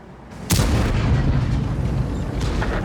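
A single loud Strv tank cannon blast in World of Tanks with a sharp attack and long rumbling decay, followed by a fainter thump near the end, with game background noise throughout.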